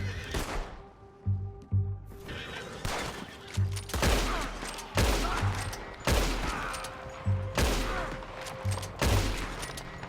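Bursts of gunfire from the video game Red Dead Redemption 2, a run of loud shots repeating every second or so over a steady game soundtrack, with brief voices and horse sounds mixed in.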